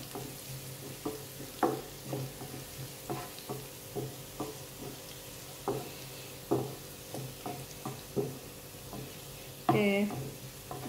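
Green chilies fry in hot oil in a pan, a steady soft sizzle broken by repeated scrapes and stirs of a spoon, close and fairly quiet with no talking.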